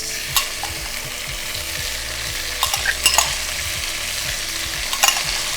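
Fresh tomatoes, seeds and skins, fry and cook down in a pan, giving a steady close sizzle with a few stirring clicks and scrapes, no voices.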